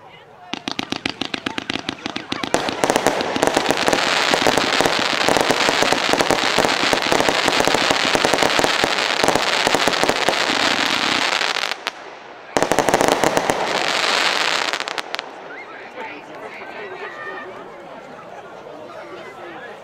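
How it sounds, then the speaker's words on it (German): An 84-shot Usain Bolt firework battery by Volt fires rapidly in one continuous loud barrage of crackling bursts for about twelve seconds, pauses briefly, then a few more seconds of shots, followed by crowd chatter. "84 Schuss werden jetzt in 15 Sekunden rausgeschossen."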